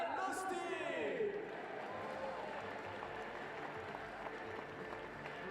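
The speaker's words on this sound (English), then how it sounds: "This is your applause." An athletics crowd at an outdoor meeting in Innsbruck claps for the women's long jump winner, steady applause heard from a distance, with an announcer's amplified voice ringing out over it near the start.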